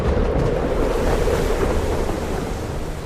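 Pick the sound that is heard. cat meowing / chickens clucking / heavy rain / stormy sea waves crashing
stormy sea waves crashing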